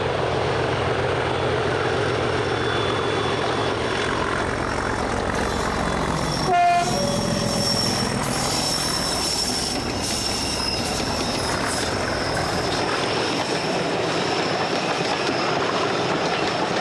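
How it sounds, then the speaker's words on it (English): A triple-headed diesel train hauled by two Class 37 locomotives and a Class 40 rumbles past loudly and steadily, with a brief squeal of wheels partway through. "A triple heading train with 237s and a Class 40."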